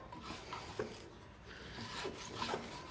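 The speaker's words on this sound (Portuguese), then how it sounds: "ou vai com a grosa nas quinas, ou passa a planinha de lado" A wood rasp files the corners of a square wooden dowel, rounding its edges with rough rasping strokes, a few sharper scrapes standing out, close and steady.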